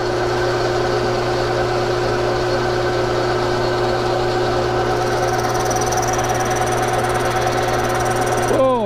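A machine turning a plastic part at about 1125 RPM: a steady, even hum with a constant mechanical drone throughout, close and unchanging, with a faint voice near the end.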